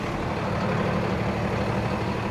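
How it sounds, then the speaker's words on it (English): A Freightliner M2 106 Western Hauler truck engine runs at a steady idle, a close, even, low diesel rumble with no voices. "start the truck."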